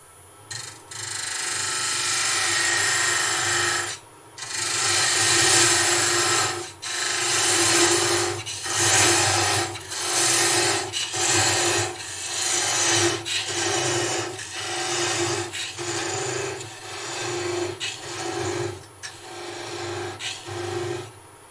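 A slim parting tool cuts into a wooden goblet spinning on a lathe, making a loud rasping scrape in repeated strokes with short pauses between them and a low motor hum underneath.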